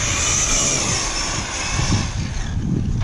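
An Arrma Mojave RC car running on Zeee 100C LiPo batteries roars past in a flyby, a loud, steady high-pitched motor whine with rushing noise that eases slightly toward the end.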